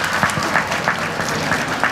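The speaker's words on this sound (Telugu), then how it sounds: "firstly I think Kamineni deserves a big round of applause" An audience gives a round of applause for Kamineni Hospitals at a hepatitis awareness event. The clapping is loud, continuous and crowd-wide, with a few sharper individual claps standing out and no talking over it.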